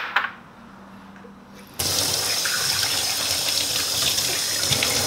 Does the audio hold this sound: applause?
no